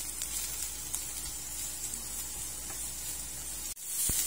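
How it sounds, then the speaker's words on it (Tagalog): Sliced eggplant fries in a pan with a steady, hissing sizzle at a moderate level. A brief dip near the end is followed by a louder burst of spattering. "Tutuin lang natin until maging medyo lumambot yung ating mga nahiwang talong."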